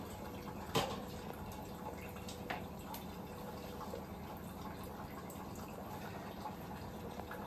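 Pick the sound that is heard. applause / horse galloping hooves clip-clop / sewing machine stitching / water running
water running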